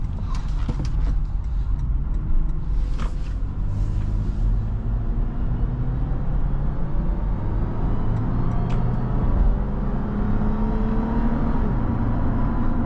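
A 2023 Toyota 4Runner SR5 Premium makes a U-turn, its engine and road noise a steady low rumble heard from inside the cabin, with a few light rattles early on and no talking.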